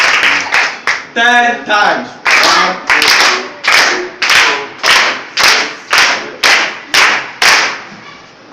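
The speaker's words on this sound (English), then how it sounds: "Let's clap for her 10 times." A group claps together in a steady rhythm for a girl's birthday celebration, loud, close bursts of applause repeating about every half second while a voice speaks over the first claps.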